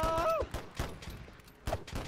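Gunfire in Holdfast: Frontlines WW1: several sharp shots crack out at irregular intervals amid battle noise, with a voice shouting over them.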